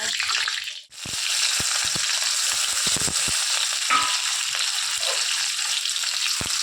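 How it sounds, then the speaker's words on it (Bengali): Dried red chilies, cardamom and bay leaves tempering in hot mustard oil, a sudden burst of sizzling that settles into a steady crackle with scattered utensil taps, close and loud. "তেল গরম হয়ে গেছে, শুকনো লঙ্কা ফোড়ন চলে গেল এলাচ তেজপাতা"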